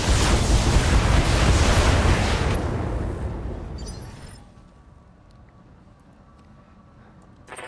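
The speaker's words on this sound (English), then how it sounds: "Firing all weapons." A BattleTech mech unleashes all weapons at once, a loud roaring barrage of blasts and booming explosions that holds for a few seconds, then rumbles away into a quieter tail with faint distant crackles.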